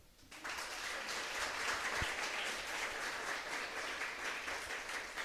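A church congregation breaks into applause, starting abruptly after a brief quiet moment and swelling into steady, moderately distant clapping that continues evenly for about five seconds.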